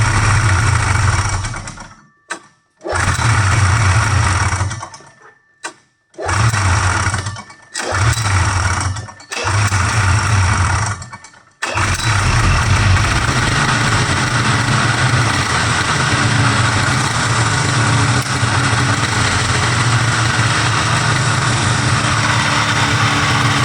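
A Scorpion Sting 440 snowmobile engine with freshly cleaned points sputters through several short start attempts that cut out, then catches and runs continuously with a loud, steady, raspy two-stroke drone.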